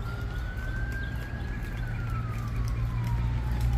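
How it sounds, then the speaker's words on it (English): Police siren in Statesville, North Carolina, a single wailing tone that rises then slowly falls, carried from a distance over a low steady rumble of traffic or engine noise. "How many times do I do videos that you hear sirens in the background?"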